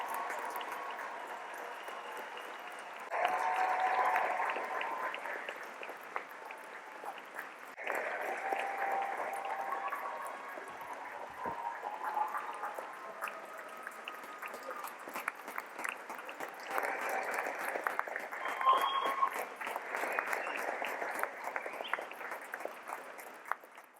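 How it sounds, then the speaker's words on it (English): A large commencement crowd applauds the graduating law class in a long, steady wash of clapping that swells and stays dense throughout, heard from within the hall. "Please join me in offering a final congratulatory applause to all members of the graduating"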